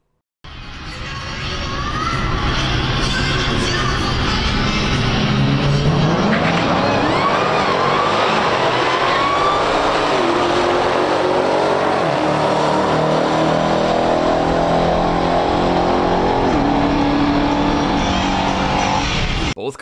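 A 2018 Dodge SRT Demon and a 1969 Chevy Camaro ZL1 in a stock drag race, with loud engines revving and roaring hard down the strip, rising pitch through gear changes, close and sustained for the whole run.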